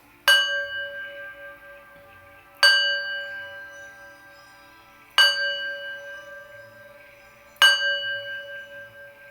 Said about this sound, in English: I'm going to ring my bell, my singing bowl, clear my energy